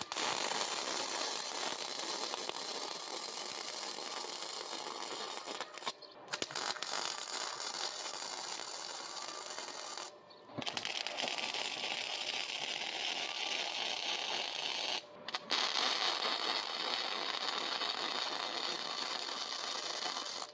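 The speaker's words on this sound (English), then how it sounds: "we'll take it over and weld it all the way around." Welding a part for a Coleman CT200U-EX trike makes a steady crackling buzz, near and fairly loud, broken by three short pauses, with no voices.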